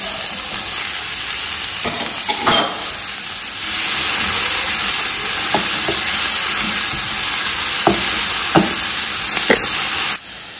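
Chopped onions and pepper sizzle steadily in a hot pan while a plantain meat pie filling is cooked, a continuous close frying hiss with a few brief clicks and stirring knocks scattered through.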